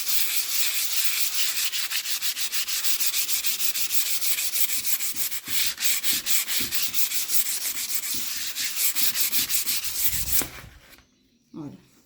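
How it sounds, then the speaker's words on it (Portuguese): Hand sanding of wood with 180-grit sandpaper on an old ironing board, a loud, steady rasp of rapid back-and-forth strokes that stops abruptly near the end, leaving near quiet. "agora a gente vai lixar com a lixa 180 para madeira"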